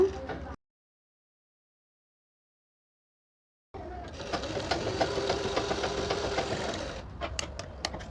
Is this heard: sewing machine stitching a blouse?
yes